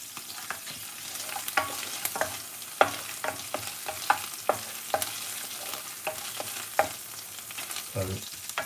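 Ginger and garlic paste fries in a pan for tikka masala, a soft continuous sizzle broken by repeated scraping stirs at an irregular rhythm, close and moderately loud, with no talking.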